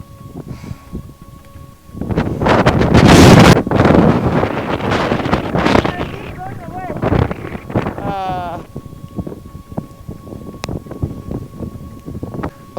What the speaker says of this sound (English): The wind is very, very strong now.